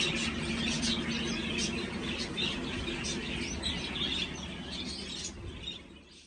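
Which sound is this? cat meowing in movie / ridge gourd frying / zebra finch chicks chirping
zebra finch chicks chirping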